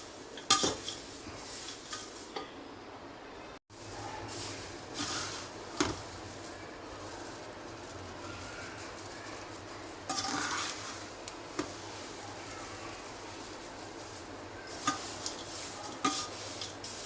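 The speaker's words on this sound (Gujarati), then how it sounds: "અહીંયા પણ આપણે 5 થી 7 મિનિટ સુધી શેકવાના છે." Thin poha chevdo is stirred and roasted in a pan, with quiet scraping and intermittent metallic clinks of a spoon against the pan coming in irregular bursts, soft and close, with no voices.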